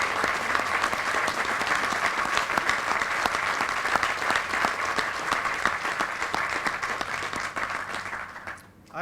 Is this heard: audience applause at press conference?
yes